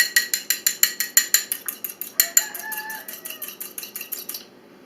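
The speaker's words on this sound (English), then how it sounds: "And now we need to beat up an egg a bit." An egg is beaten with a fork in a bowl: quick, regular rhythmic clinks and taps, close and fairly loud, slowing and fading out near the end.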